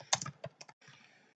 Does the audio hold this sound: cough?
no